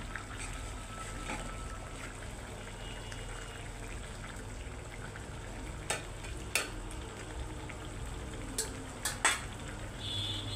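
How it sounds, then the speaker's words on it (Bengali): Hilsa fish pieces added to a gourd curry and stir-fried in a pan, giving a continuous low sizzle with a few sharp spatula clinks and scrapes toward the end, no voices. "এখন আমি মাছগুলো দিয়ে দিচ্ছি। মাছগুলো এখানে দিয়ে আর একটু কষিয়ে নেব সুন্দর করে।"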